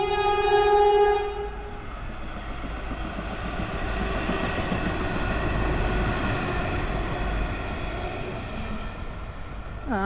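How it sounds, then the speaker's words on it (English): A Sprinter diesel passenger train passes through Chelsea suburban station, loud and close, with a sustained engine and wheel roar that swells and fades gently and opens with a blast of horn. "Looks like we've got a Sprinter coming along."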